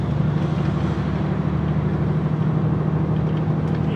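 Van passing a DAF truck on the road, heard from inside the cab as a loud, steady engine and road-noise drone with a broad rushing wash, no voices.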